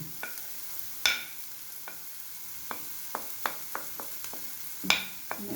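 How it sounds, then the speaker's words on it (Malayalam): Onion with chili, turmeric, pepper and chicken masala powders is stirred in a pan, giving scattered light scrapes and clicks of the utensil over a faint, steady background hiss. "നന്നായിട്ടൊന്ന് വഴറ്റുക പച്ചമണം പച്ചമണം മാറുന്നത് വരെ ഒന്ന് വഴറ്റിയെടുക്കുക"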